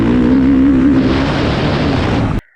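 A 2022 Husqvarna FC450 dirt bike engine revved hard, a loud, steady high-rpm buzzing roar held for about two seconds before cutting off abruptly.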